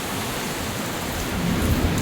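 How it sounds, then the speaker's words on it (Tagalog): Heavy rain pours steadily during a severe thunderstorm, a dense, even hiss with no voices, swelling slightly near the end. "grabe, lakas ang ulan, no?"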